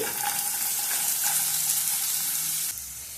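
Green chilies, cinnamon, cloves and onion fry in hot oil with a steady, close hiss and crackle that stays loud for most of the stretch before dropping slightly near the end, with no voice over it.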